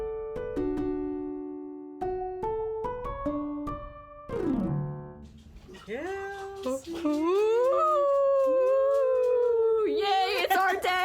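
Jackson, an excited dog, howls in long wavering rising and falling cries that grow steadier and louder toward the end, after a stretch of stepped tonal sounds.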